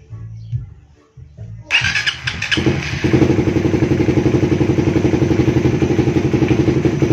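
A Raider Fi 150 motorcycle fitted with a 36mm throttle body in place of the stock 32mm starts after a brief lull, then settles into a loud, close, steady idle with an even, rapid pulsing beat.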